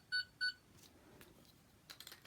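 Doctor Who sonic screwdriver toy gives two short, high electronic beeps in quick succession, followed by faint clicks and handling noise in a quiet room.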